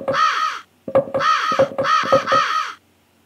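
A bird in a Philips CD-i video game caws in harsh, loud, synthetic bursts, a single call followed by three quick repeated caws, alone without talk.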